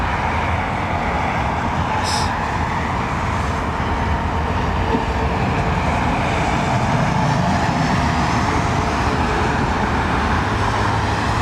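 An aircraft with Rolls-Royce Trent 7000 engines passes at Heathrow, producing a loud, steady, broadband jet roar that holds constant throughout without any breaks.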